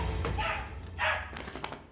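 A dog barks in a few sharp bursts, close and fairly loud, with a couple of shorter yips trailing off indoors.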